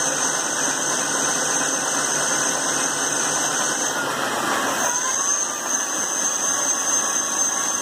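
A car alternator repurposed as the motor of a homemade e-bike runs flat out at full throttle, giving a loud, steady electric whine with a high tonal squeal that holds throughout, with no speech.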